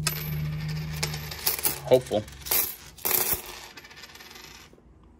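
Coins spill out of a freshly opened coin roll, a burst of bright metallic clinks and rattles over a couple of seconds, close and loud, with a brief spoken word over the clatter.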